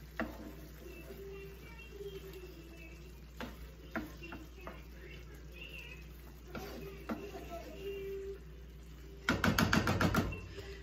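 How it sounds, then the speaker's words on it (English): A small child playing with toys in a home kitchen, heard as scattered clicks, rattles and knocks in the background under a steady hum, ending in a louder burst of rapid clattering. "sorry if you hear the noise in the background. My son is playing with his toys."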